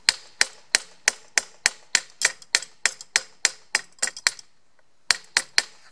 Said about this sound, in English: Once you started displacing the metal, just round the rivet head off. Does not need extensive banging.